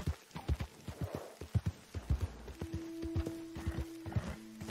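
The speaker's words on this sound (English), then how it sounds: "And the horse just doesn't want to go." Horse hooves clip-clopping in a video game, a steady run of sharp hoof beats near and fairly loud, with a sustained tone entering partway through.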